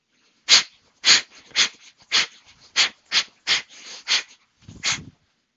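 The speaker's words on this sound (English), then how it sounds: "But you heard my breathing?" Heavy rhythmic breathing during shadow boxing, about nine loud, close, forceful exhales in a steady beat, each short and sharp like a punch, with no talking.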